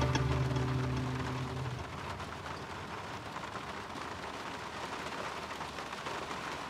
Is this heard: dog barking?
no